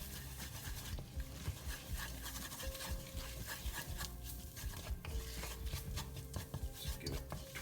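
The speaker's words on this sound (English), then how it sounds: "50 grams of plain flour. So I'm going to swirl that around the pan" Plain flour being stirred and swirled around a pan, a steady close scraping and rubbing with light clinks of utensil on metal, continuous and alone without talk.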